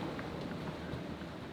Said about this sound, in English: It's raining. It's damp and delightful.